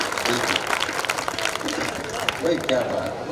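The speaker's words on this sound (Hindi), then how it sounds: "मुझे तालियां बजाकर हुक्म दीजिए" Audience applause at a Hindi poetry gathering (kavi sammelan) during a Dussehra fair in Banswara, a dense crowd clapping steadily throughout with scattered voices in the hall.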